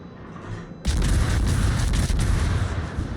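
Naval gunfire from a battleship in a naval combat video game: a sudden loud boom that opens into a sustained rumbling roar of heavy guns, with no speech over it.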